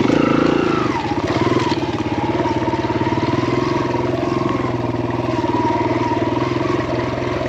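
Kawasaki KLX140RF dirt bike ridden slowly on a flat tire, a loud close single-cylinder engine chugging steadily at low revs with a rhythmic thumping throughout.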